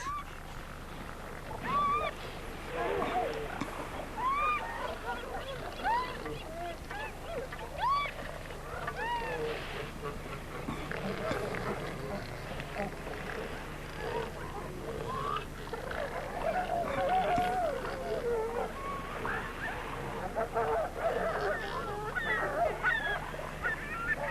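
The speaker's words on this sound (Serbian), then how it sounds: "dok se galebovi tuku oko posteljice" Gulls squabble over a seal placenta, giving a continuous chorus of harsh overlapping calls and squawks amid a steady wind and surf background in an outdoor colony.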